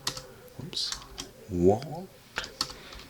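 Typing on a computer keyboard: a run of light, close clicking keystrokes at an uneven pace, with a voice briefly speaking partway through.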